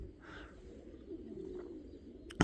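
Soft pigeon cooing from a backyard loft in spring, a low murmuring coo rising briefly and fading, faint and close, ending with a short sharp knock or flutter.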